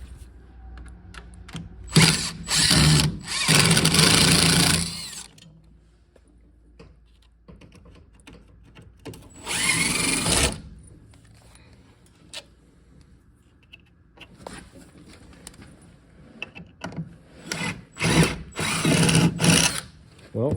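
Power drill driving self-tapping screws into a 1977 Ford F-150 farm truck, several loud whirring bursts of varying length separated by quiet pauses, close by.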